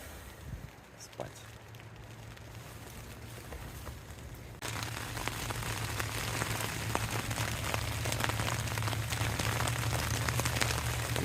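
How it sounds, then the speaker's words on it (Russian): Rain patters steadily on a tent close by, growing heavier partway through into a dense, constant drumming. "Нормально дождь зарядил."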